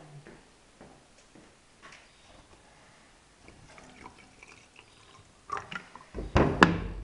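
Water poured into a canary's quarantine drinking water after drops of dewormer, a splashing gush that builds near the end after quiet, faint handling noises.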